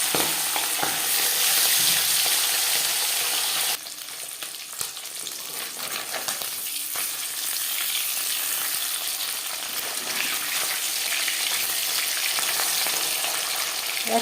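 Marinated pabda fish sizzles loudly as it hits hot refined oil in a pan, a bright crackling burst that drops slightly after a few seconds and then settles into steady frying with occasional pops.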